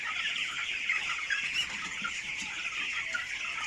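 A flock of broiler chickens on a farm clucks and chatters continuously, many overlapping birds close by forming a dense steady murmur of calls, with no talking.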